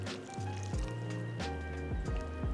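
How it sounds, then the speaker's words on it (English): Cornstarch slurry is poured into a simmering sauce for yong tau foo, giving soft liquid squelches and low bubbling plops that repeat every half second or so, close and gentle. "Once you pour the cornstarch in, let it come back to a boil again"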